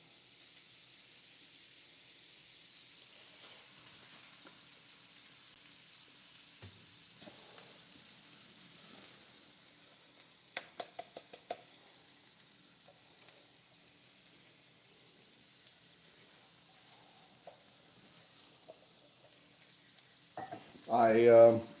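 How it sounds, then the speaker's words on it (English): Red onions sizzling on a hot griddle, a steady low frying hiss that continues evenly for the whole stretch, with a few faint clicks and clatters and a brief louder scrape near the end. "The griddle is hot. I'm gonna throw some red onions to begin with."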